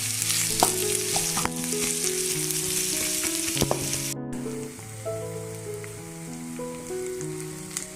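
Onions frying in a pan, a dense, bright crackling sizzle that runs the whole way, steady and close, with occasional spoon clinks and a brief cutout midway, no one talking.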